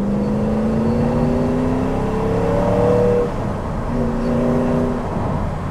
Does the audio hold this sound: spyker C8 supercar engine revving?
yes